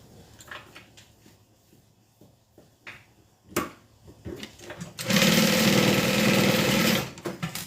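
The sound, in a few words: Juki 1181 sewing machine sewing bag side to bottom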